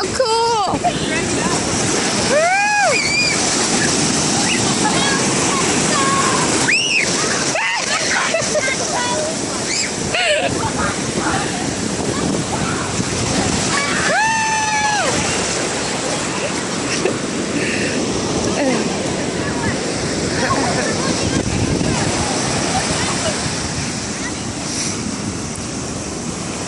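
Ocean waves wash steadily at Imperial Beach, California, a broad continuous surf roar with wind buffeting the microphone throughout, while excited voices and whoops break in over the water.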